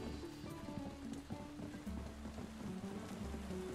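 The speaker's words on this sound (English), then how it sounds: "there's the rain. Just as promised." Rain pattering steadily in the Tavern Keeper video game, a soft continuous hiss beneath tonal game music that plays throughout.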